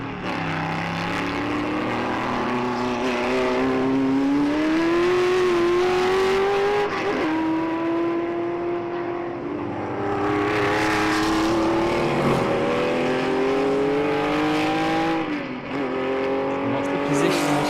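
Classic Porsche race cars, a 2.5-litre and a 3-litre RS, racing and overtaking on the Jarama circuit, with loud sustained engine roars rising and falling through gear changes while a commentator talks over them.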